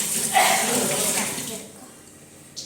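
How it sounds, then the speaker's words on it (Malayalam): Tap water running steadily in a kitchen sink while a kitchen knife is rinsed, a close broadband wash that fades toward the end with a brief splash. "ഇനി ഈ പിച്ചാത്തി ഒന്ന് കഴുകാം"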